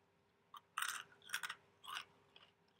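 Quiet, close crunching as a fried snake head is chewed, with about four distinct crisp bites separated by short pauses.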